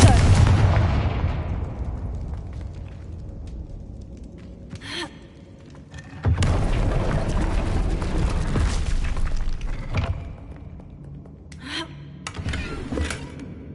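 Confringo blasting-spell explosions in Hogwarts Legacy on PS5: a booming blast that fades out, then a heavier rumbling explosion a few seconds later, followed by smaller scattered bursts.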